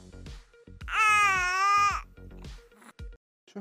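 An infant's sleepy cry: one sustained, close, loud wail lasting about a second, framed by softer whimpers and breathy sounds before and after.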